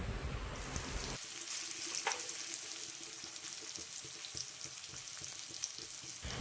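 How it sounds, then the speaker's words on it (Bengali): Long beans fry in oil with a little sugar for a Bengali kolmi shaak dish, producing a steady close sizzle and crackle throughout, with a few faint stirring scrapes and no talk. "বরবটিটা খুব ভালো করে এখন তেলে একটু ভেজে নেব।"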